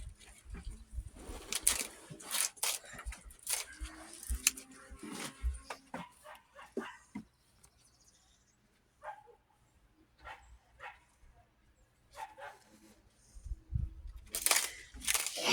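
Dogs bark outdoors near a home garden in scattered sharp bursts, some close and some farther off, with birds cooing in the background and quiet gaps between.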